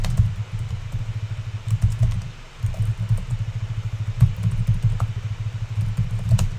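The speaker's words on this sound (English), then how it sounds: "I'm getting a little faster at typing on this, which is good." Rapid, steady keystrokes clatter on a computer keyboard up close, a continuous run of light clicks with one brief pause partway through, with no talking.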